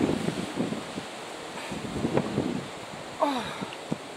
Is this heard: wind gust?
yes